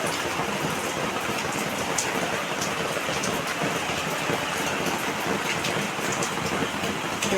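Heavy monsoon rain pours down steadily outdoors in Gujarat, a dense, continuous hiss of drops on surfaces with no break, moderately loud and unaccompanied by talk.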